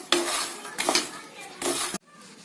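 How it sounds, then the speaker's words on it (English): Masala-coated foxnuts (makhana) are stirred in a pan with a spoon, giving three bursts of scraping, rattling clatter separated by short pauses, close and fairly loud. "Now start to stir."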